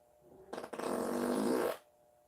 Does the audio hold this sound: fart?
yes